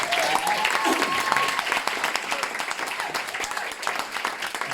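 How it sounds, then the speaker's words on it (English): A roomful of people applaud a speaker at a live mental health event, dense continuous clapping that stays loud and steady throughout, with a few whoops mixed in. "So big round of applause for Jody Kennedy."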